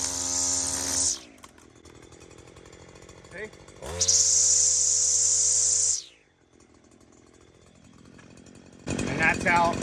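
A string trimmer with its guard on and long line runs in loud, high-pitched whining bursts separated by quieter gaps, revving up and cutting off several times, with the engine idling low between runs.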